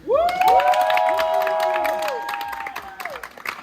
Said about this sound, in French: Est-ce que vous pouvez applaudir encore?